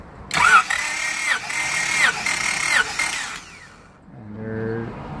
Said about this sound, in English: Gonna crank one more time to get a second reading.